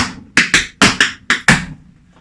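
Tap shoes strike out a swing groove, six sharp, loud taps in an uneven swung rhythm, close and alone with no talking.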